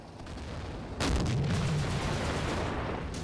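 Artillery shells land near barbed wire in the World War II game Combat Mission: Afrika Korps, Gallabat battle: a low hum breaks into a sudden heavy boom, followed by a rumbling, crackling tail of distant impacts.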